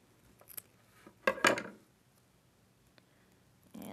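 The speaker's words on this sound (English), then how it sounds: "You can just snip it at the ends so it's nice and even." Scissors snip tape ends on a feather headband with a couple of quick, quiet crisp cuts close by, amid soft handling noises in a quiet room.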